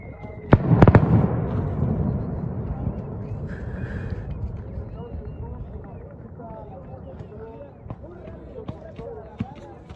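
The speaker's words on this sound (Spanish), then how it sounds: "ahí se oyen los cohetes" A sharp firework rocket blast followed by a rumbling tail, then scattered crackles and pops continuing in the distance under a noisy crowd with voices at a race finish in Santiago Miltepec, Oaxaca.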